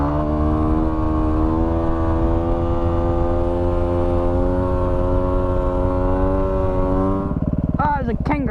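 A Yamaha WR250R trail bike idles with a steady, loud engine drone in desert country at golden hour, then the note shifts and rises sharply near the end as the rider revs it to lift a wheelie.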